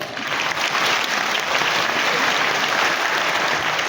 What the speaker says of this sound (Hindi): तो बड़ा काम तो बड़ी तालियां।